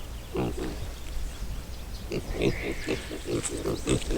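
Close, repeated pig grunts in short clusters, a few snorts between them, with a faint higher squeal in the background.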